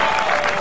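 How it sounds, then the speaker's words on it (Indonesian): A studio audience at an Indonesian television talk show breaks into loud, dense applause, a continuous wash of many hands clapping at once through the whole brief moment. "Tepuk tangan dulu buat Anggun."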